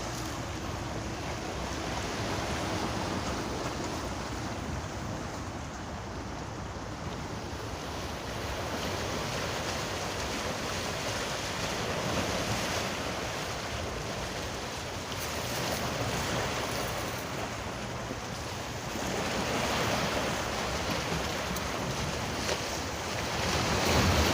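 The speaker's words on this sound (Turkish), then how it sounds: "Dalgalar taşları dövüyor resmen." Rough waves pound the stones along a shore in rainy weather, a dense, continuous wash of surf with gusts of wind buffeting the microphone, and no voices.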